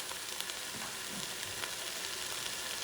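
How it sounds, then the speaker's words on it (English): A pot for cooking dried beans with pork trotters, where tomato sauce goes in: a steady sizzle and bubbling hiss with faint stirring clicks, fairly quiet and continuous. "Now I'm going to add some tomato sauce."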